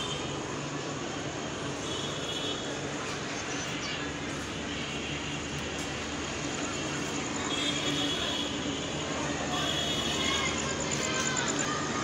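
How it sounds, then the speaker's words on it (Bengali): The intercity 766 down Nilsagar Express pulls into Saidpur station with a steady, rumbling roar of the train that grows slightly toward the end. "ঢাকাগামী আন্তনগর ডাউন নীলসাগর এক্সপ্রেস ট্রেনটি সপ্তাহের প্রথম দিনই রাইট টাইমে এসেছে, সৈয়দপুর ইন করলো।"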